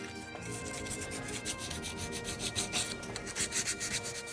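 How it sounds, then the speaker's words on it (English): Steady rhythmic scraping of sandpaper rubbed by hand over a wooden narrowboat hatch or door, strokes growing louder and more regular, close by with no talking. "that's all the hand sanding done"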